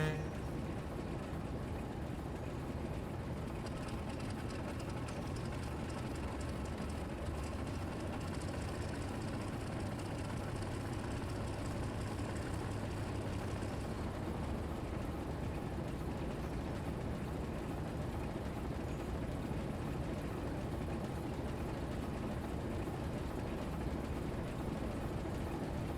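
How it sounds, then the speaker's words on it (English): A small diesel shunter locomotive runs in the Railroader game, giving a steady, loud engine rumble with mechanical rattle that holds for the whole stretch without speech. "I feel like the sound of the little engine shunter thing is actually really,"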